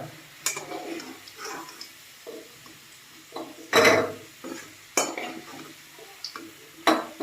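Fried potatoes lifted out of a frying pan and set onto a plate in a home kitchen, giving scattered light clinks and scrapes of utensil on metal and plate, quiet and intermittent.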